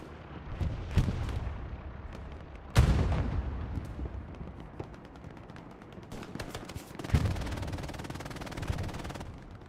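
Gunfire from a Grease gun and a Gewehr in the Hell Let Loose video game, during a competitive match on the Carentan map: dense bursts of gunshots and heavy booms, with loud blasts near 1, 2.8 and 7 seconds over continuous distant firing.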